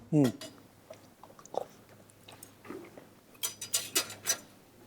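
Boiled whelk dipped in chojang sauce being chewed close to the microphone, with soft wet bites and small clicks scattered between bursts of talk and laughter.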